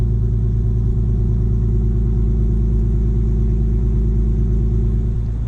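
An Infiniti G37 sedan engine idling steadily with test pipes and stock headers, a deep, throaty exhaust rumble, constant and close, with no talking.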